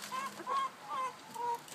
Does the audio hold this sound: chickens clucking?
yes